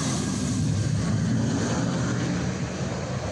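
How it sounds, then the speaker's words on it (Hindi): A Mirage 2000 fighter jet roars on the Yamuna Expressway during a road-runway landing and take-off trial, a loud, continuous broadband engine rush with no talk. "आज सुबह मिराज 2000 को यमुना एक्सप्रेसवे पर न सिर्फ लैंड करवाया गया बल्कि उसे"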